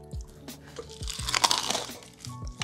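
Crunchy bites into crispy KFC Wicked Wings fried chicken, close-up crackling crunches with chewing in a loose rhythm, louder in the middle, with no talking.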